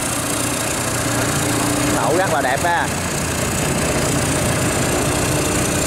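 A Kubota 70 engine on a farm dozer runs at a steady idle, a continuous mid-pitched drone, while someone speaks over it close by.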